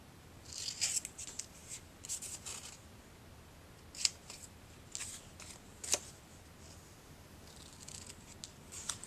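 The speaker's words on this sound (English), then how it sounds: "2 of these pieces I'm going to trim these top little triangles off of" Scissors snip paper pieces close up in short crisp bursts of cuts, with pauses between clusters and a few sharp isolated snips.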